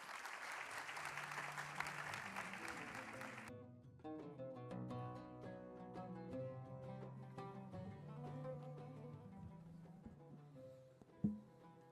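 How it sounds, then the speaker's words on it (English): An audience at a finance academy forum claps in sustained applause for a few seconds, then the clapping stops abruptly and music plays on alone at a moderate level. "This is your applause."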